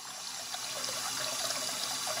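Video game sound of water running from a tap before washing a face, a steady close trickling stream with no talking over it.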